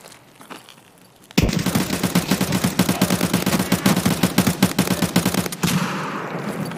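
Sustained automatic gunfire in the shooter game Escape from Tarkov: a loud, rapid burst of dense, regular shots lasting several seconds after a quiet start, then stopping abruptly, with no talking.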